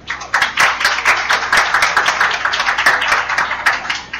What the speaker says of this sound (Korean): 발제자의 발제를 박수로 청해듣도록 하겠습니다.